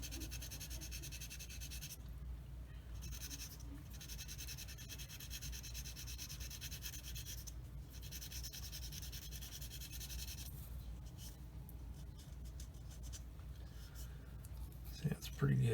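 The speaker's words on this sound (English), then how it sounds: "I just keep sanding that until that shiny spot disappears." A plastic part from a 1/72 Academy Ju 87G Stuka model kit sanded with a rocking motion, soft close scratchy rubbing strokes that run quietly and steadily, pausing briefly now and then.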